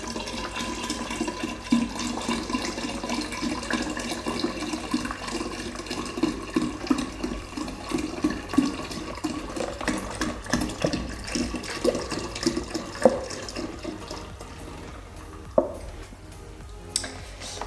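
Apple juice and pineapple juice being poured from one-litre bottles, a steady liquid gurgle and splash with light clinks, moderately close and continuous, tapering off near the end.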